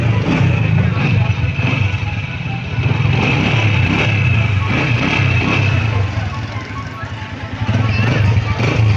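A repaired Honda CG125 motorcycle engine idles close by with a steady low putter, swelling briefly as the throttle is blipped, under a constant mechanical drone.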